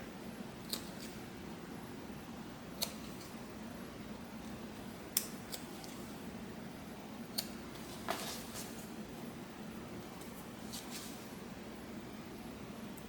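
Scissors that are not very sharp snip through faux leather in a quiet room, a handful of isolated crisp cuts spaced a second or two apart over a low background hum.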